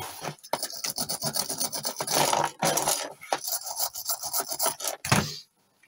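A flux-cored MIG welder on Einhell wire crackles and rasps in bursts, running smoothly for a moment and then sputtering and cutting out, with short gaps between the rough, close, loud stretches.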